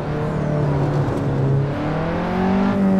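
A Caterham race car's engine revs and whines close by on the hilly Faveyrol circuit, its pitch sliding down then climbing again as it accelerates, with no voices over it.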